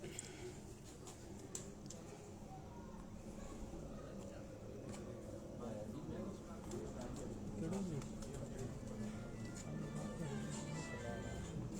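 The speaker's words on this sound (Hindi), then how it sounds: "ये उनके घर की कोर कमांडर ब्रीड का कबूतर आपको दिखाएं।" A Core Commander breed pigeon cooing at a fancier's home in Haripur Hazara, soft low coos repeating under steady nearby talk and background hum.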